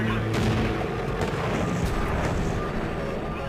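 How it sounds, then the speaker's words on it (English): An airplane engine explodes after three propeller blades on the left wing snap off, a dense, booming roar with repeated heavy thuds that stays loud throughout, with faint voices mixed in. "The breakage causes an explosion in the engine,"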